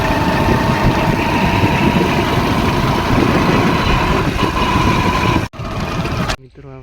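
A motorbike engine idles loudly and steadily close by before riding off to a farm field, a constant rumbling drone that cuts out abruptly near the end before a short quieter burst.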